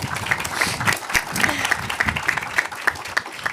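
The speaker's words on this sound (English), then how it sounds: "How about one more round of applause here?" Crowd at a police training academy groundbreaking ceremony claps in sustained applause, with a few sharp rhythmic claps standing out near the front and a voice briefly heard beneath.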